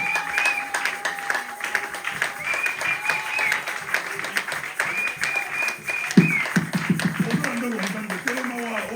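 A church congregation applauds with steady, lively clapping that continues throughout, with voices and sung or spoken praise mixed in over the crowd.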